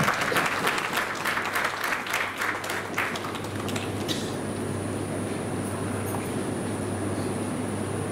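A large lecture audience breaks into loud, dense applause that fades after a few seconds into a steady room hum, without speech.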